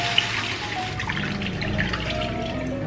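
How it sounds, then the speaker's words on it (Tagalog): Water pours steadily into a cooking pot of beef chunks with a soft, continuous splashing rush, close by and moderately loud, with faint kitchen background noise. "Lagyan ng tubig."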